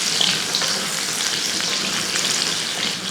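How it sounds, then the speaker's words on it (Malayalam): Sliced mango frying in heated coconut oil, a loud, steady, close-up sizzle with crackling spatters and occasional stirring, no voices. "നമ്മുടെ ഈ വെളിച്ചെണ്ണ ഒന്ന് ചൂടായ ശേഷം ഈ മാങ്ങ ഇതിൻ്റെ അകത്ത് ഉപ്പൊന്നും ഇടല്ലേ"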